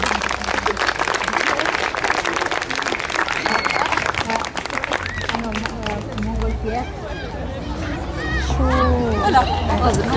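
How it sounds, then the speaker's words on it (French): Crowd applauding at the opening of the Parc du Loup in Lausanne, dense outdoor clapping for several seconds that thins into chatter and overlapping voices, with people talking and laughing nearby. "On applaudit Serge."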